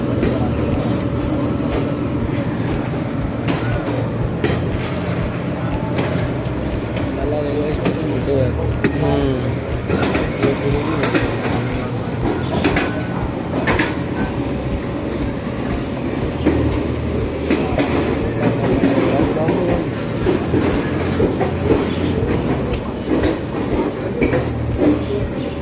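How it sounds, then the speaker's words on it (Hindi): A busy railway station at Ambala Cantt rumbles with trains and their clattering wagons, a dense, steady, loud wash of rail noise with crowd chatter mixed in throughout. "ये रेलवे स्टेशन है यहाँ का।"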